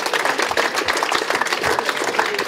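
Applause from the audience at a MoDem political rally, a dense and steady patter of many hands clapping at once, loud and continuous throughout with no speech over it.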